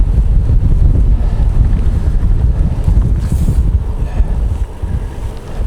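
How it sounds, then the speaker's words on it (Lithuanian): Strong wind roars steadily across the microphone at Europe's westernmost point, a dense, loud low buffeting with no pauses, with no voices. "Čia pučia labai dideli vėjai"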